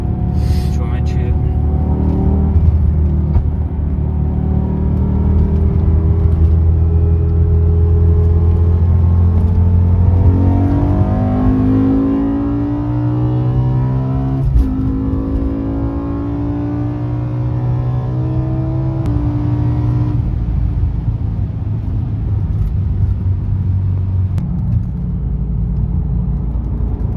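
A BMW M5 E60 pulls hard along a straight, its engine note climbing steadily through the revs with a rising, whirring roar and a brief shift, heard from inside the car with someone talking over it.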